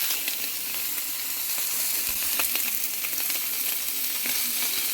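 Pork chops sear in a frying pan with a dense, continuous sizzle and crackle, scattered sharp pops throughout, fairly close and steady.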